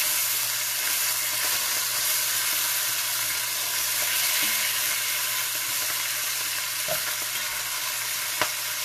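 Oxtails sear and sizzle steadily in a cast iron skillet, a constant bright frying hiss with occasional soft clicks and scrapes as pieces are turned.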